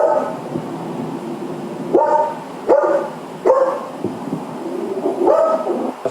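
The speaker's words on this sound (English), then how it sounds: "You can hear the dogs barking." Dogs bark loudly and close by, letting out four or five sharp, rising barks spaced a second or so apart over a low background murmur.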